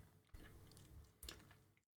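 Crunchy chewing of a Maltesers cake bar, close to the mic, in two bursts of biting and crisp munching separated by a short pause, with no talk over it.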